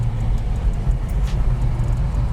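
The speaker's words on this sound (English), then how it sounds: "Downshift it into 2nd." A 1966 Ford Mustang with a built 302 V8 dropping into second gear, its deep engine rumble steady and close from inside the cabin, with road noise and no talking.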